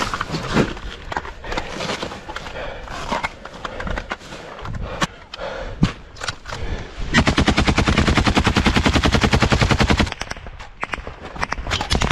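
Automatic rifle fire in battle, loud close bursts of rapid shots, scattered at first, then a long continuous stream of rounds before breaking into irregular shots again.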